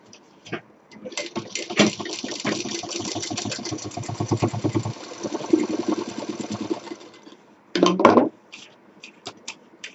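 A sewing machine stitches a simple fabric bag in a steady run of rapid needle strokes lasting several seconds, then stops, leaving a brief burst of fabric handling.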